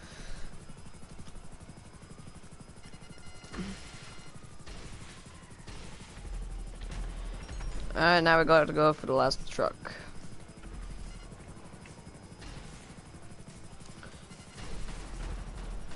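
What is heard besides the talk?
helicopter in video game GTA Online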